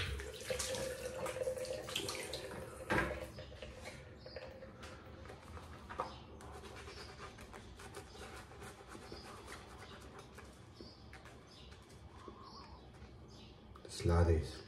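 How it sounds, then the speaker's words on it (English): Shaving brush whipping shaving soap into lather, with soft wet swishing and squelching that stays fairly quiet and close throughout, ending in a slightly louder burst near the end. "Let's lather up for second pass."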